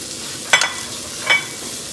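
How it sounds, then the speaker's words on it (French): Onions cook gently in oil over lowered heat, giving a soft continuous sizzle broken by two brief stirring scrapes close by. "je laisse mes oignons cuire gentiment dans cette huile"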